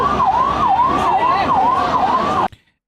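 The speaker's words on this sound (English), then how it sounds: "अभी 3 ambulances आई हैं." An ambulance siren wails in a steady rising-and-falling cycle as it arrives at a protest in India, loud and close, then cuts off abruptly near the end.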